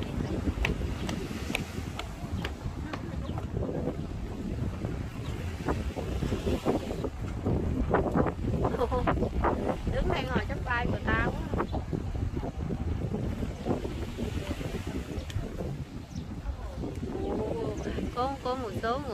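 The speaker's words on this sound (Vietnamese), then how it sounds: "Gió quá gió luôn." Strong wind buffets the microphone at a beach where people are surfing, a loud continuous roar with gusty swells, while people talk over it.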